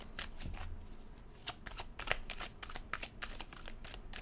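A deck of tarot cards shuffled by hand, giving a run of crisp riffling bursts and soft slaps, close and fairly quiet, with no talk.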